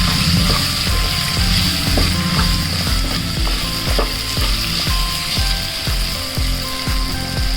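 Raw green mango pieces stirred in a hot pan with salt, red chilli powder and turmeric, a steady loud sizzle with regular scraping strokes of the spoon repeating throughout.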